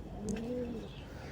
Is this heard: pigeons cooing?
yes